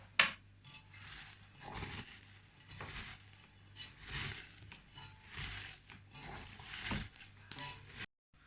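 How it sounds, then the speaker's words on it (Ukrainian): Shredded cabbage being mixed and squeezed by hand with sugar for a marinated cabbage and pepper salad, soft wet crunching and rustling in irregular bursts, close and fairly quiet. "Перемішуємо. І трошки подавимо капусту руками."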